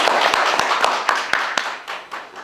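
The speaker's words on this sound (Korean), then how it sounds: "뜨거운 박수로 환영해 주시기 바랍니다" Applause from a lecture audience welcoming a Democratic Party lawmaker to the stage, dense overlapping hand claps with a few sharper claps standing out, steady and fading slightly toward the end.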